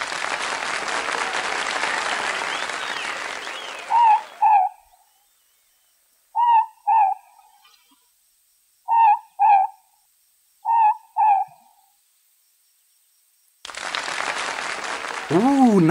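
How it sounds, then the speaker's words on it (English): A New Zealand night owl calls in short, paired hoots, four doublets spaced a couple of seconds apart, clear and alone against silence, framed by a crowd's applause before and after. "Puke is a night owl as a rule, but he is about to take the spotlight to prove he is a New Zealand bird with talent."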